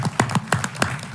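A few scattered hand claps ring out in a congressional hearing room, sharp separate slaps in a brief uneven burst from a small group.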